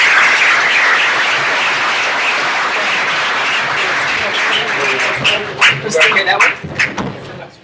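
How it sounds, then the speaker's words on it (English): Audience applauding instructors at a police and mental health co-response panel, a steady loud wash of clapping that thins out toward the end as a few voices talk over it. "if you can give these wonderful instructors a round of applause"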